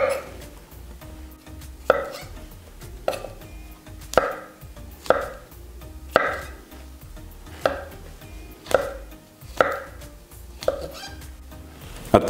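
A knife slices half a kilogram of mushrooms into thin plates on a board, about a dozen crisp, evenly spaced cuts landing close by, each followed by a short pause.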